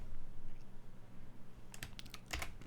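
Keys on a computer keyboard clatter in a short quick burst near the end while someone codes a Minecraft mod, preceded by faint room hush.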